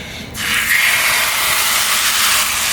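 Rice-flour and egg batter hits a hot mustard-oiled tawa with a sudden loud hiss that settles into a steady, close sizzle.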